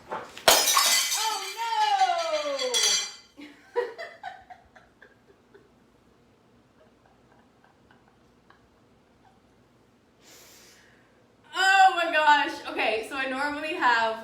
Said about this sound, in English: I was like putting that bowl down on the see-through table, but it fell because the table was not there